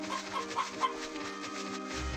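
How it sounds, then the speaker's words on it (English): A chicken in the retro video game Ys 1 gives a quick series of four clucks over steady looping game music, the clucks small and evenly spaced. "Chicken."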